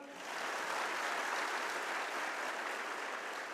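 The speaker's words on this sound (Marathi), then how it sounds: "टाळ्या जोरदार वाजवा." An audience at a speech breaks into sustained applause, a dense, even wash of many hands clapping that swells quickly and holds steady, slightly distant and with no talking over it.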